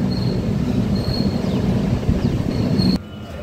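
A MEMU passenger train pulls out of Nidadavolu junction, its wheels squealing in high, recurring tones over a steady low rumble of the rolling cars. The squeal and rumble drop off sharply near the end.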